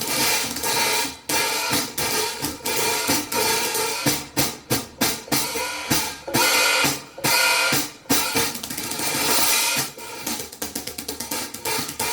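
Adjustment being tightened on a DW low boy hi-hat stand, giving a steady run of metallic ratcheting and grinding clicks with brief pauses, close and fairly loud.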